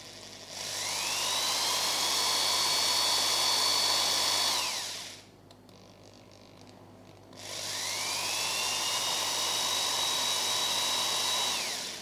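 ALDO BLT1008 corded torque drill running at low speed, two bursts of steady motor whine, each spinning up smoothly, holding, then winding down, separated by a short pause.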